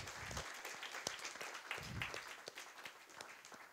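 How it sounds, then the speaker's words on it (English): An audience claps in applause for Nick Dunn after a talk on futures of the built environment. The dense, steady clapping runs through the whole moment with no talk over it. "Let's give Nick a big round of applause."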